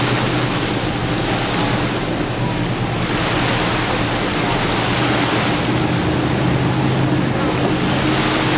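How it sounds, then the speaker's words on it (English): A tour boat motor drones steadily on a river in the Upper Wisconsin Dells, a loud close continuous hum with water rushing alongside. "we're going to have a few minutes boat ride now"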